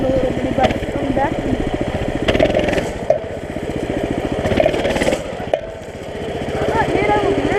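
A small mini bike engine running close by, a buzzing, rapid-firing single-cylinder drone that rises and dips with throttle changes, with voices talking over it.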